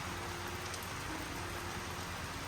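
Steady autumn rain falls at a snail farm in Kyiv Oblast, a continuous even patter on surfaces with no voices and no break.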